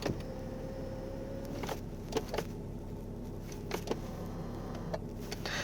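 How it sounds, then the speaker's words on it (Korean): The electric steering column of a BMW SUV adjusts: a steady, close motor whir runs throughout, with a few light clicks as it moves. "이차 전동 핸들인데요 전동 핸들 작동되는지 확인 도와드릴게요"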